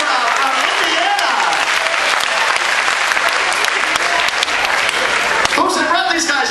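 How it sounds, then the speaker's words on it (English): An audience claps and cheers at the Carnival Liberty cruise ship welcome show, a dense, loud, sustained wash of applause filling the room. "how about a round of applause for Jim and Barbara from Indiana?"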